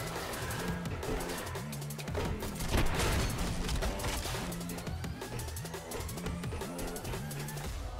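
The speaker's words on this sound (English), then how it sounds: "What is that gunfire?" Video game gunfire in the shooter Sprawl, dense rapid bursts of shots over a rhythmic pulsing electronic soundtrack, continuous and busy throughout.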